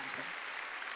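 Congregation members at a Sunday church service clap together in a brief, dense burst of applause, sustained evenly and fairly quiet overall.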